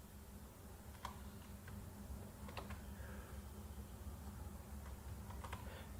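Faint, sparse keystrokes on a computer keyboard as a C++ program is typed, with scattered light taps over a steady low hum and no voices.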